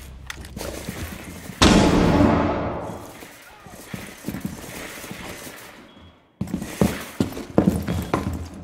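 Weapon reload in Rainbow Six Siege, a run of close mechanical clicks and clunks mixed with gunfire bursts and game effects, with voices talking over it.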